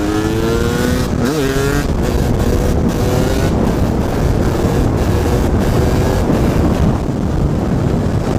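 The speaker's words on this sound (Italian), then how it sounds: "Sento la moto più pronta in curva." Two-stroke motorcycle engine on a 2.5% premix of mixing oil, running steadily while being ridden, with loud continuous engine drone, brief pitch sweeps and buffeting wind noise throughout.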